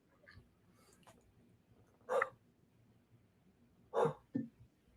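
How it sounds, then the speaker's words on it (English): A dog barks a few times, short sharp bursts spaced apart, with a quiet room hum in between. "my dog is barking"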